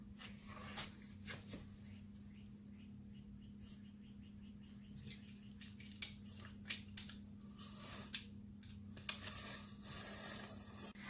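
Scissors trim fabric for a fabric-covered box with lid, producing quiet, close snips in a loose irregular series, with a denser burst of cuts near the end, with no talking.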